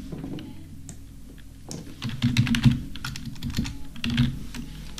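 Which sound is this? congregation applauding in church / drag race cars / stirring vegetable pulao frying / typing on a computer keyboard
typing on a computer keyboard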